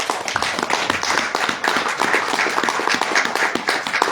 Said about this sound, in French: Sous vos applaudissements, je vous prie.